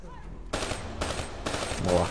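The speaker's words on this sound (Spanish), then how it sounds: "¿No ves cómo dispara el cabrón, tío?" Enemy gunfire in the video game Black Ops 3, a run of loud automatic bursts in three or four close-spaced volleys, with a faint voice underneath.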